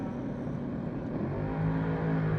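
A Chevrolet Camaro drag car at Rockingham Dragway holds a steady loud engine roar with a low droning tone that rises slightly toward the end, and no talk over it.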